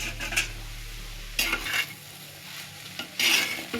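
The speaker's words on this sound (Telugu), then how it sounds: "ఇది వేసుకొని కలుపుకోవాలి అటు ఇటుగాన." Ginger, green chilli and coconut paste being stirred into cabbage for a coconut cabbage fry: soft scraping and spoon-on-pan clinks in a few bursts, with a faint sizzle underneath and no voices.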